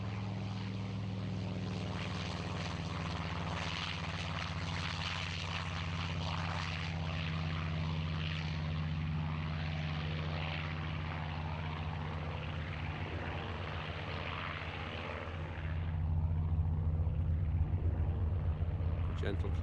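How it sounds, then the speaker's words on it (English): A Lavochkin fighter's 1850-horsepower piston engine growls steadily as it takes off at the Duxford air show, a deep, loud, continuous drone that rises in intensity toward the end, with someone talking over it. "listen to the growl of this 1850 horsepower engine on the Lavochkin as Keith gets"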